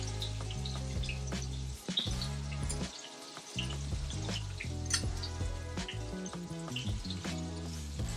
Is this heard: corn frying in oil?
yes